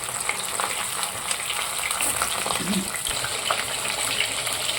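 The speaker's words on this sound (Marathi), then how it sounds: "दुसरी बाजू पण याच पद्धतीने तळून घ्यायची" Fish pieces frying in hot oil in a home kitchen, giving a steady, close sizzle and crackle throughout with occasional brief clinks, no talking.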